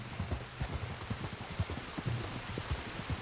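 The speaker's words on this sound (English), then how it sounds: "You were right about the damn rain." Rain falling in the video game Red Dead Redemption 2, a soft steady patter with low thumps and occasional hoof-like clops beneath, faint and continuous with no voices.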